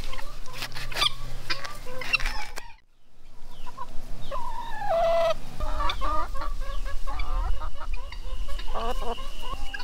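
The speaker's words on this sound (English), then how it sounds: "the chickens still get to eat the passion fruit and make us beautiful super eggs" Chickens cluck repeatedly in a tropical backyard garden, a steady run of close, busy clucks and squawks with a brief quiet gap near the start, then constant low rumble beneath the flock.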